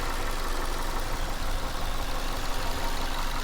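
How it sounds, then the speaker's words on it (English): A small Ford 4-cylinder engine in a 2016 Ford Transit Connect XL van idles under an open hood, making a steady, even hum with a low rumble that stays constant throughout. "Here under the hood, we do have a little Ford 4-cylinder."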